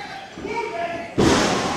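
A wrestler gets body slammed onto the ring mat during a wrestling show, a single sharp, loud thud landing partway through amid crowd noise and commentary talk.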